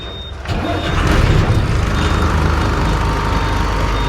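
A second-hand diesel truck's engine fires up and settles into a loud, steady rumbling idle close by, with a faint high tone running over the low drone.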